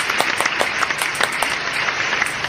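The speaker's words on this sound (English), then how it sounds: "Now, class, let's give them a round of applause." A classroom of students gives a round of applause, dense steady clapping from many hands with sharp individual claps popping out, filling the whole stretch at an even level.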